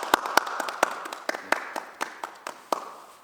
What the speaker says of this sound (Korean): 수고한 우리 모두에게 박수.